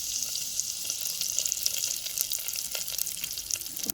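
Sun-dried lentil vadiyam sizzles in hot tempering oil for a dal pulusu, a steady, close hiss of crackling oil with scattered small pops running throughout, no voices.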